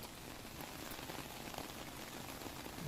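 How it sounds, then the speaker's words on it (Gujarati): Heavy rain pours down steadily in Nadiad, a dense, unbroken patter on surfaces with no voices. "હજુ પણ નડિયાદમાં વરસી રહ્યું છે અવિરત વરસાદ"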